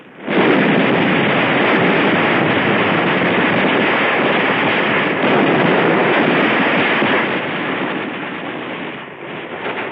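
Dense, continuous battle din of rifle fire and mortar blasts from Marines in combat at Tarawa, loud and sustained throughout with rapid overlapping bursts, easing slightly near the end.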